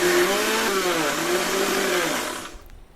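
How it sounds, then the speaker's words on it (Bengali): A blender jar churns milk cream into butter with a loud, steady motor whine that wavers slightly in pitch, running for about two and a half seconds before cutting off into quiet. "সরটাকে আমি ব্লেন্ডারে জারের মধ্যে নেওয়ার পর এইভাবে থেমে আমি কিন্তু ব্লেন্ড করে নিচ্ছি"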